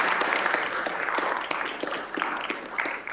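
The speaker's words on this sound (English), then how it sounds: "y'all can applaud" An audience claps steadily at a community event honoring Black organizations, a dense, continuous round of applause from a crowd.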